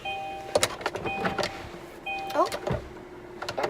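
A car roof opens with a motor whirring in short bursts amid clicks and clunks, fairly faint inside the cabin, while people talk and exclaim.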